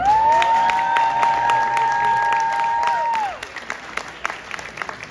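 A press conference audience for a pro fight card claps in sustained applause with some crowd noise, loud and steady for about three seconds, then dropping to scattered claps, under a high electronic tone.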